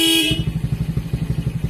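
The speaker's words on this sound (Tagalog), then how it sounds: "Busina." A Honda Smash 115 motorcycle horn gives a short loud honk, then the engine idles in a quick, even chugging rhythm close by.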